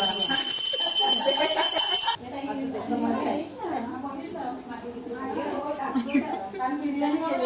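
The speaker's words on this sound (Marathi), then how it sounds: "आणि अशी घंटी वाजवा." A bright bell chime rings loudly for about two seconds, then cuts off abruptly and casual talk follows.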